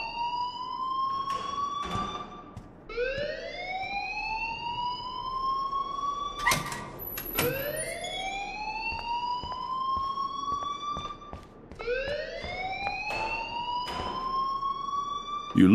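An alarm blares in Life Is Strange, a loud siren-like tone that repeatedly sweeps upward and holds, cycling several times as a steady electronic wail.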